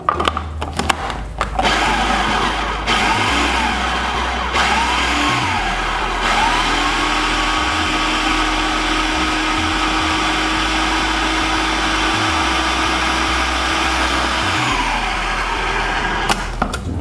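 A blender pulses a thick brownie batter made with beans, oil, sugar, extract and nut milk, its motor whirring steadily and loudly for the whole stretch with small shifts in pitch.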